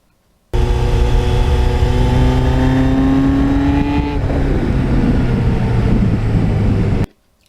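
A 1989 Kawasaki GPX750R Ninja motorcycle engine revs hard under acceleration, its pitch climbing steadily through a gear before a shift near the midpoint, then pulling again, loud and close throughout with no talking.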